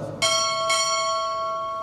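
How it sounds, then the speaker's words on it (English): A ship's bell struck twice during a U.S. Navy Chief Petty Officer pinning ceremony, two clear ringing strikes about half a second apart, each leaving a bright sustained metallic tone that fades slowly in an indoor hall. "2 bells."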